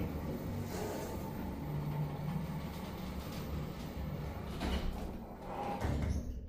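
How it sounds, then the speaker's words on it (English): Qudos lift doors at the Florence Nightingale Community Hospital in Derby slide shut with a steady low mechanical rumble, followed by a few soft knocks as they close. "Doors closing."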